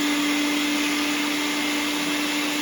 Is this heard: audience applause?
no